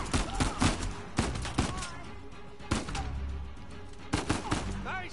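Gunfire in the action game Uncharted 4, sharp loud shots in quick clusters and scattered single cracks with game sounds and brief voices in between.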